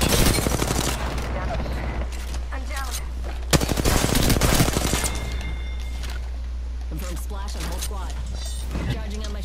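Video game gunfire crackles in rapid bursts, loud and close, with a heavier volley midway, mixed under excited talk and a constant low hum.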